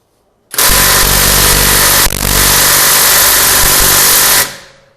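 A cordless 1/2-inch impact wrench hammers on a nut in one loud, continuous burst of about four seconds of rapid rattling impacts, with a brief jolt midway, then cuts off and winds down.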